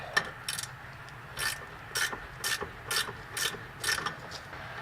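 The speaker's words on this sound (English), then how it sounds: "I love ratchet wrenches." Ratchet wrench turning a fastener on a 455 Cutlass during a disc brake and posi traction swap, with about a dozen short bursts of rapid clicking at a steady rhythm, close and fairly quiet, with no talk.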